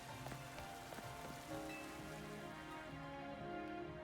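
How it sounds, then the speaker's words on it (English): Rain pattering on surfaces fills the scene in the video game Pokémon Legends Z-A, a quiet steady wash under soft in-game musical tones, with no talking. "Ah, we're gonna do this in the rain, huh?"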